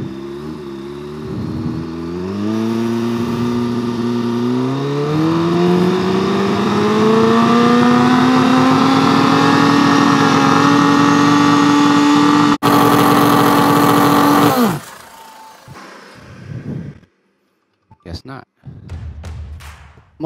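A turbocharged Kawasaki ZX10R motorcycle engine, built to about 450 hp, revs up loud and close at a drag-strip starting line, its pitch climbing and holding high before cutting off abruptly, followed by brief sputters and pops.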